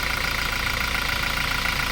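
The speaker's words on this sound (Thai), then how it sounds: "ฟังเสียงเครื่องยนต์นะครับ" A Toyota Revo diesel pickup engine idles after an intake manifold cleaning, a steady, even mechanical hum with a faint rhythmic knock, heard up close and alone for the full length.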